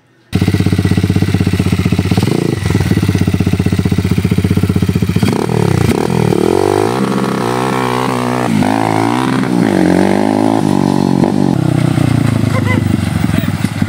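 Motorcycle engine fitted with a racing CDI revving hard and loud, climbing and dropping through repeated throttle blips with a rough, buzzing exhaust note throughout.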